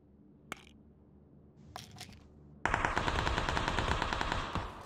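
PUBG gunfire: a couple of faint single shots, then a sudden loud, sustained burst of rapid automatic fire that rattles on for a couple of seconds before tapering.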